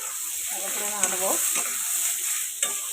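Rice grains stirred in hot oil in a pan with ginger, a steady close sizzle with scraping spoon strokes and a couple of sharper clinks, heard alone.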